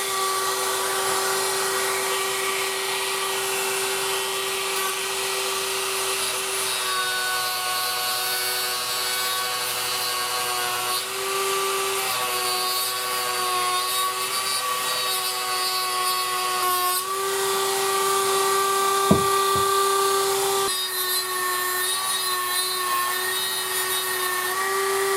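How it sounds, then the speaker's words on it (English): A steady, whining power tool cuts a slot into the edge of an old Amplion horn speaker, running continuously and up close with shifts in pitch and a brief sharp knock near the end. "I'm going to put a little slot in the very edge."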